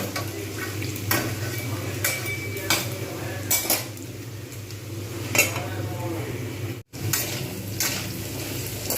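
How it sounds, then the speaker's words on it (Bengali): Potatoes and papaya frying together in a pan with onions for a papaya dalna, a spoon scraping and clinking against the metal in repeated strokes over a steady close sizzle, with no talking. "তাই আমি একসঙ্গে আলু এবং পেঁপে এইভাবে ভাজতে থাকবো"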